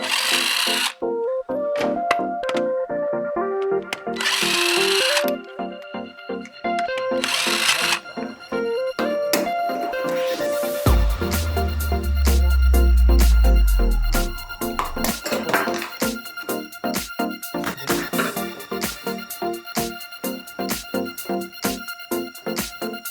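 A power tool loosens a bolt on a Volvo in repeated loud, close whirring bursts separated by short pauses, with rattling and clanking of tools and parts between the runs.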